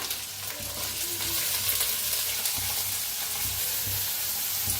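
Chopped onion, garlic and green chili with a pinch of hing fry in a pan, making a continuous soft sizzle with occasional stirring scrapes, close but fairly quiet and with no talk.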